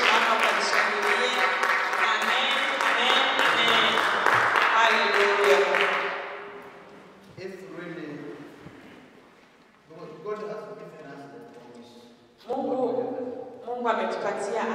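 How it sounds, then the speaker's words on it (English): A church congregation claps together during a service, a dense burst of rhythmic clapping followed by scattered sounds and talking from the preacher. "just stand up and give the two claps for his glory"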